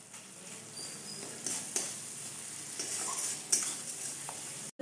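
Ground cumin and spices stir-fry in oil in a pan for an onion- and garlic-free aloo paneer, giving a quiet, even sizzle with occasional soft scrapes of a spatula.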